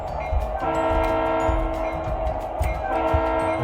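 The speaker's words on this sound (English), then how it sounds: "Need to whistle a couple times." Lionel O gauge model train whistle sounding in a steady sustained chord over the hum and rattle of the running layout, close and fairly loud with no talk.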